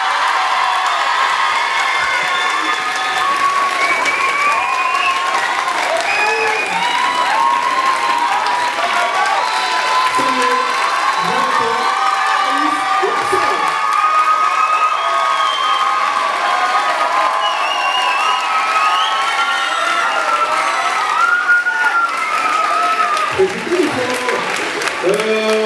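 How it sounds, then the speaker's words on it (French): A large audience claps and cheers continuously, with scattered whoops and shouts rising above dense, loud applause. "Vous pouvez les applaudir très fort."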